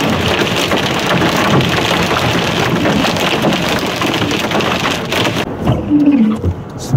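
Heavy rain pours steadily on the edge of a possible supercell thunderstorm with hail near Penrith, New South Wales, Australia, making a loud, dense hiss throughout, with a few heavier thumps near the end.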